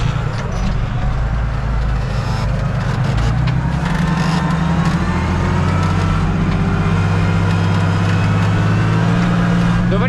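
A tractor engine runs steadily while the plough is lowered in a field, a loud, close, low droning rumble with a constant pitch and no clear change in speed.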